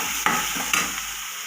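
A spoon stirs potato filling with Kashmiri chilli and garam masala in a pan over low sizzling frying, with two soft scraping knocks in a short continuous near mix and no talk.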